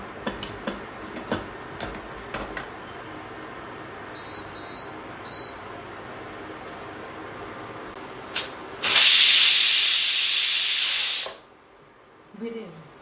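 A pressure cooker holding pav bhaji mixture lets out one loud, sustained hiss of steam lasting about two seconds, following a quieter stretch with faint beeps and light kitchen noise.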